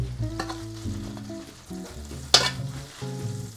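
Vegetables seasoned with salt and pepper fry in olive oil with a steady close sizzle. Stirring rustles run through it, one sharp clatter lands midway, and a low tonal hum sits underneath.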